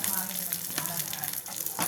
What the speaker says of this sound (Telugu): ఇదిగోండి ఫ్రై అవుతున్నాయి కదా, కరివేపాకు కూడా వేసేసాను.